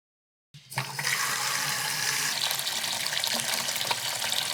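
Tap water runs steadily over a felt-style hat dyed with expired printer ink, rinsing it in a sink. The flow starts abruptly and continues as a loud, close, hissing stream.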